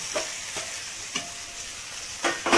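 Chicken pieces and potatoes fry in oil while a spatula stirs them, a steady sizzle broken by several sharp scraping strokes against the pan, close and moderately loud with no speech.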